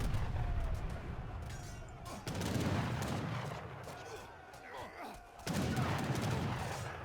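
Heavy cannon hits in an Age of Empires III free-for-all battle, a dense roar of booming artillery and gunfire volleys that swells, briefly drops away and surges back at full strength.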